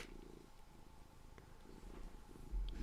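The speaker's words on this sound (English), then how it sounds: "the cat is definitely trying to say something" A cat purrs close by in a steady low rumble that runs throughout, fairly faint, with a brief louder rise near the end.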